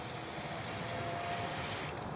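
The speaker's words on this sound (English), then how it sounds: "This stuff is called Get Some 1000. It's a spray lubricant." A continuous hissing spray of Get Some 1000 lubricant onto a car battery terminal, faint and steady, swelling slightly in a short burst before easing off.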